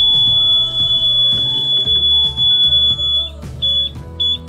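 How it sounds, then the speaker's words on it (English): A 9-volt Watchdog water leak alarm sounding after its contacts touch water, a loud, steady high-pitched electronic tone that holds continuously and breaks into short repeating beeps near the end, with some low background rumble. "So once these contacts make contact with water, they'll go ahead and sound an alarm."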